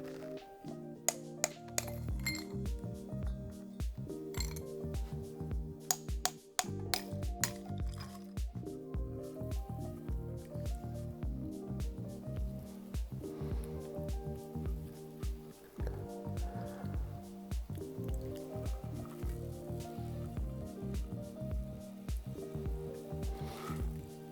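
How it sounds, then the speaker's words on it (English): Clear ice cracked and dropped into a plain round rocks glass, repeated crisp taps and clinks in a steady rhythm over about twenty seconds, close and fairly loud with no talking. "I'm gonna crack some clear ice in there."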